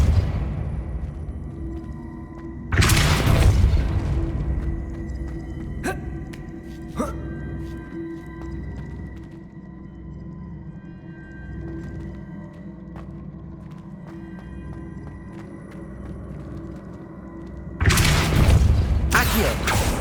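The Depulso force spell in Hogwarts Legacy lands as a loud whooshing boom, then quiet game ambience with faint clicks and hums runs for about fifteen seconds before a second heavy boom bursts in near the end.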